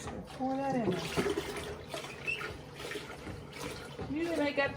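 Water pours and splashes into a pitcher in bursts while a person talks over it, while making Southern sweet tea.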